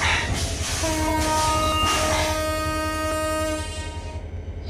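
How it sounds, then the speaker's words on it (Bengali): In a train simulator game, a train horn sounds a long sustained blast over a steady low rumble of the departing Chilahati intercity express, fading slightly at the end. "এখন আমরা এই আন্তনগর চিলাহাটি এক্সপ্রেস ট্রেনটা ছাইরা দেই।"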